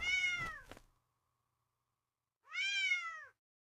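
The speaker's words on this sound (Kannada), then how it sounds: "ಒಂದು ಸಣ್ಣ ಬೆಕ್ಕು." A small cat gives two clear, fairly quiet meows with a pause of silence between them.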